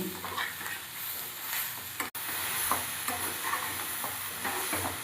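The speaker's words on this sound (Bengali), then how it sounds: "এবার এগুলো খুব সুন্দর করে ভেজে নেবো আমি।" Cauliflower fries in a pan with salt, black pepper, roasted spice powder and chili flakes, giving a steady close sizzle with stirring scrapes throughout and one brief cut near the middle.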